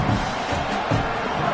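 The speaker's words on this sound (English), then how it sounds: "Man, this crowd really affecting the football game." A home crowd at a Michigan vs Ohio State football game roaring on third down, a dense, loud wash of cheering that is continuous throughout the short stretch.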